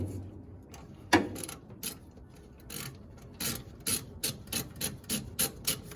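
A ratchet wrench clicks as it turns a nut, maybe 9/16, on a Jeep Wrangler YJ, near and distinct, the pawl ticking in short rhythmic strokes that grow steadier and more regular toward the end.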